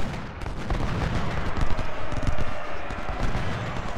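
Massed musket volleys and booming artillery roll across the battlefield at Malvern Hill in the Union campaign of Ultimate General: Civil War, dense overlapping cracks and thuds forming a continuous rumbling din with no pauses.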